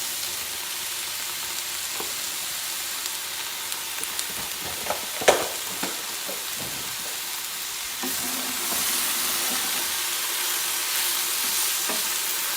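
Mixed teriyaki vegetables and baby spinach warming together in a pan, a soft steady sizzle with a few scattered clicks and scrapes, growing slightly louder toward the end, no talking.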